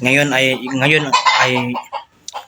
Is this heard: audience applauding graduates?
no